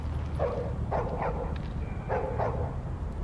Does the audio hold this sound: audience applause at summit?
no